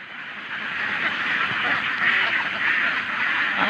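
A flock of domestic ducks kept for egg laying quacks in a busy, overlapping chorus, close and fairly loud, holding steady and swelling slightly for several seconds.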